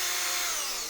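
A 1-inch Forstner bit in a power drill bores into shelf wood, a loud continuous whirring grind through the whole short burst, alone and without talk.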